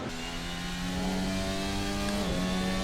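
A Formula 1 car engine in a racing video game at the Imola Grand Prix revs steadily with a high, sustained whine that shifts pitch near the end, loud and continuous with no talking over it.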